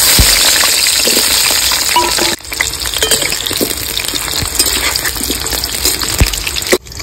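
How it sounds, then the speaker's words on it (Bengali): Potato pieces fry loudly in hot mustard oil in a kadai, making a dense, roaring sizzle that dips briefly twice and then carries on, with no voices. "তেল গরম হয়ে গেছে, আলুর টুকরোগুলো ভেজে দেবো।"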